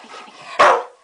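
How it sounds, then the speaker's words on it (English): A female dog gives a single loud, sharp bark up close in the middle of play over a toy, with quieter indoor shuffling before it. "Don't you bark at me."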